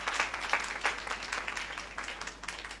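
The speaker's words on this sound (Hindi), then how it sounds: "मैं चाहूँगा एक बार दिलीप सर के लिए ज़बरदस्त ताली होनी चाहिए" An audience at a seminar meeting in Bihar bursts into steady applause, a dense patter of many hands clapping at moderate distance for a few seconds with no talk over it.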